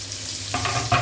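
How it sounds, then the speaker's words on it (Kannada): Finely chopped onion sizzling in a hot pan with a steady hiss, frying toward brown for a chicken gravy, broken by a couple of stirring scrapes and louder sizzle bursts. "ಇದೀಗ ಆನಿಯನ್ ಬ್ರೌನ್ ಕಲರ್ ಆಗೋವರೆಗೆ ನಾವು ಫ್ರೈ ಮಾಡುವ."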